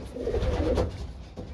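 Breeding pigeons, the parents of a young bird, coo in a loft: a steady, close, low murmuring coo that continues through the short stretch with no talking.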